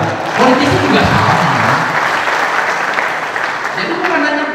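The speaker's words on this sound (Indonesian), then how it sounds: "Ya tepuk tangan aja lah." Loud, sustained applause from a seated audience at a dialogue session with mid-career police officers, dense clapping filling the whole stretch and easing slightly toward the end.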